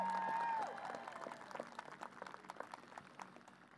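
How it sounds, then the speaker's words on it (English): A high school commencement crowd applauds the custodial staff with a soft, steady patter of many hands clapping at a distance, after a brief tone at the start. "Round of applause for our amazing custodial staff."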